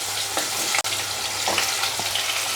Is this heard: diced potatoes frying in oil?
yes